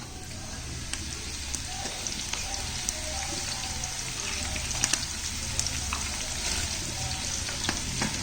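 Breadfruit (kadachakka) chips deep fry in oil with a steady, close bubbling sizzle and scattered sharp pops, holding an even level throughout.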